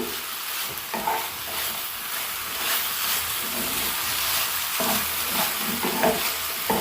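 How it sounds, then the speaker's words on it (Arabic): Red and green peppers being stirred in a hot frying pan for Syrian-style shawarma, with steady sizzling and hissing under repeated scraping turns of a utensil, close and continuous, no voices. "نديها تقليبه"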